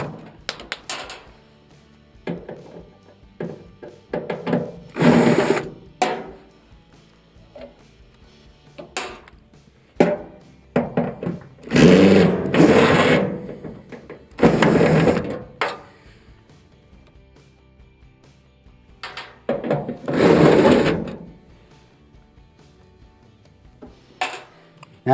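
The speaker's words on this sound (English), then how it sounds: "we have clear access to the 4 1/4-inch screws that hold the blower duct in place. So we're going to remove those." Four 1/4-inch screws being backed out of the blower duct inside an Amana dryer cabinet: bursts of ratcheting and whirring driver noise with metallic taps and clinks between them, close and fairly loud.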